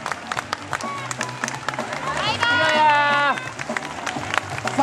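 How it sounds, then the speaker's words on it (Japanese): An outdoor crowd at a free live concert in front of the Big Step building in Osaka claps and cheers after the performer's set. The applause is dense and swells midway, with voices over it and a few whistles. "大きな拍手ください"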